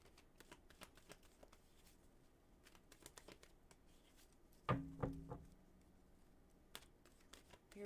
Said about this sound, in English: All right, Wolf, I'm going to shuffle for you now